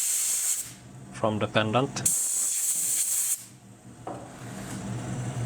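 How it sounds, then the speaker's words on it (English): Compressed air from an air compressor blasts excess oil off a hot, freshly forged Viking rune pendant, giving two loud sustained hissing bursts with brief talk between them. "simply use the air compressor and blow the excess oil"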